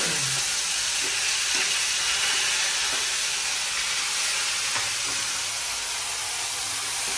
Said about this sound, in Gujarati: એ ખાલી વઘારી દે કા.